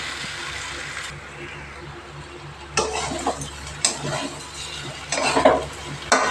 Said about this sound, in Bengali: আর এই যে মশলা বানিয়েছিলাম ভালো করে মিলিয়ে একটু কষিয়ে নেব